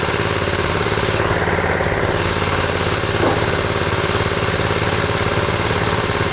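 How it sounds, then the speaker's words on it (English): Concrete power trowel machine running steadily on a barndominium slab near the edge, a loud continuous engine drone with constant vibration and no pauses, close by. "I can't get super close to the edge with this trowel machine because they're not meant for that."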